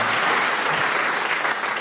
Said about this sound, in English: A round of applause for sharp listening.